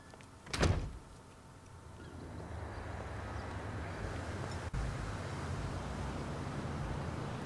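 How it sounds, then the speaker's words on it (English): A car door in the video game GTA V shuts with a single solid thunk near the start, followed by a steady low wash of engine or road noise. "Close the door on your way out."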